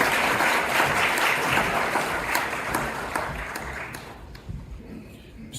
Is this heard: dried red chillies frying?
no